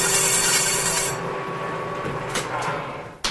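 Short hand-file strokes rasp against a metal edge to break a chamfer, a bright scraping hiss fading after the first second, then a few lighter scrapes and a sharp tap at the end.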